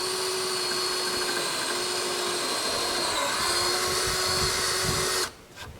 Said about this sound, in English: I'm drilling the hole on